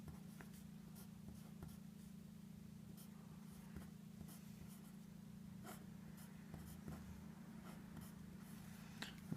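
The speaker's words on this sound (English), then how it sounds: "So for the first let's draw the grid, and we can just go in increments of 1." A pen drawing a grid on paper: quiet, close scratchy strokes come in short irregular bursts over a steady low hum, with no talk.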